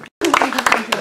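Applause breaks out around a festive table at a feast for the Madonna of Pietrapiana, a loud, dense patter of many hands clapping that starts after a short silence and carries on, mixed with voices.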